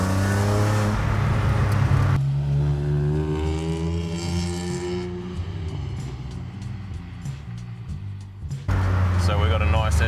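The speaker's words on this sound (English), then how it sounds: "So we've got a nice S54 rasp coming out of this system" BMW E30 fitted with a swapped-in S54 engine and custom exhaust, revving with a raspy, harmonic-rich note that rises and falls in strong close bursts, broken by a stretch of wind and road noise.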